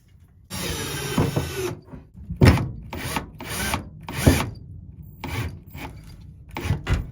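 A power drill drives Phillips head screws to fasten patches over small tears in a wheel well, heard as one long whir followed by several short bursts of drilling, close and fairly loud.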